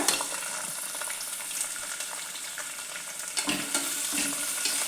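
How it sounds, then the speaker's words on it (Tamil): Chopped large onions frying in a pan for a Tamil tomato kadayal, giving a steady, close sizzle with occasional stirring scrapes and no talking. "நல்லா வறுத்துக்கோங்க நல்லா வறுப்படணும் வெங்காயத்தில் நிறம் எல்லாம் கொஞ்சம் சேஞ்ச் ஆகணும்"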